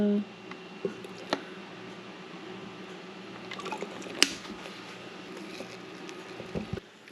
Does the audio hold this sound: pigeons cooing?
no